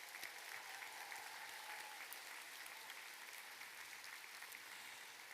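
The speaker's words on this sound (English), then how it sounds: "Let's give them a big round of applause." Sustained applause from a commencement audience honoring alumni at a college graduation ceremony, steady and dense throughout, heard from a distance in a large hall with no talking over it.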